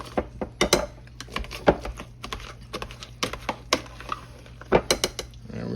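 Potatoes are mashed in a pot with irregular, sharp clacks and knocks of the utensil against the pot, close and fairly loud, separated by brief pauses over a faint low hum.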